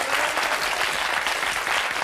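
A French TV studio audience applauds: a thick, uniform wash of clapping from many people, loud and sustained through the whole moment, with no voices breaking through.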